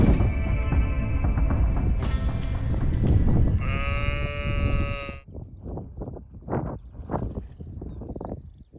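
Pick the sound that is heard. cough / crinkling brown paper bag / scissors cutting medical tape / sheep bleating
sheep bleating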